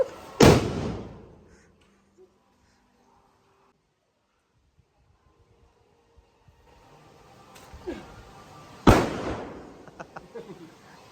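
An 'atom bomb' firecracker explodes outdoors in a forest setting: one sharp loud bang early, a long quiet gap with faint rustle, then a second loud blast followed by crackling pops.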